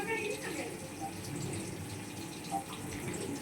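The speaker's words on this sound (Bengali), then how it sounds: "একটু পনিরটা ধুয়ে নিলে ভালো হয়। পনির সবসময় রান্না করার আগে ধুয়ে নেওয়া উচিত" Tap water runs steadily into a kitchen sink as paneer is rinsed before cooking, a continuous splashing flow with faint voices in the background.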